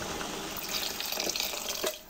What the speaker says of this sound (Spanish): Le echo una gotica de agua.